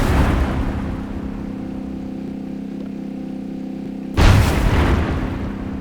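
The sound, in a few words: tank explosions from Minecraft Create Aeronautics video game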